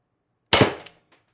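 One sharp, loud crack comes from a TR50 Torpedo CO2 air gun firing a 12.7mm ball bearing. A brief rattle follows it, then a faint tick, and no one speaks.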